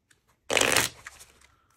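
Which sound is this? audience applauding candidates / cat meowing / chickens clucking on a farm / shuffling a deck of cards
shuffling a deck of cards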